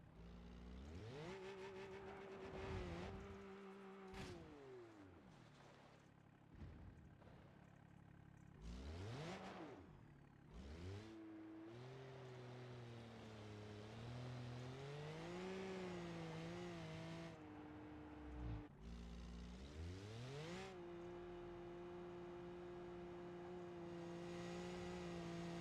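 A car engine in a driving video game revs up and down repeatedly, rising and falling pitch sweeps with gear-change dips, steady and fairly quiet throughout.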